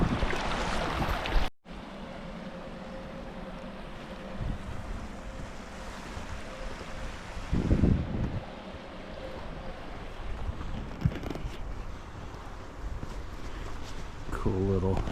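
Water rushes through rocky canyon-style rapids on Pine Valley Creek near San Diego, a steady broadband wash with some wind buffeting on the microphone, a brief dropout near the start and a burst of louder splashing midway.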